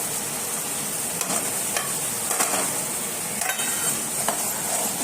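Dry whole spices stir-fried into a masala in a pan, a continuous sizzle with several clinks and scrapes of a spoon against the pan, close and without talk.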